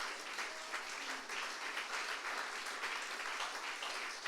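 A church congregation claps hands together in steady, dense applause that fills the space at a constant, fairly loud level, with no voices rising above it.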